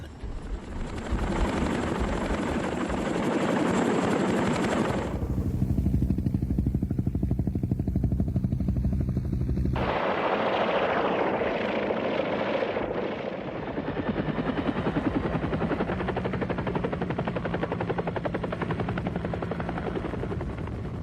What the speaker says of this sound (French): 120 hélicoptères américains décollent pour amener 800 soldats de l'ARVN en renfort